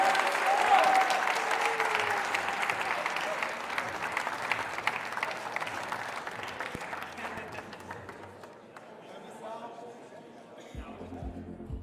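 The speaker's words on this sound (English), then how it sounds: "another round of applause from the USA" Steady applause from a large crowd fills the whole stretch, tapering slightly toward the end, with a voice speaking faintly over it.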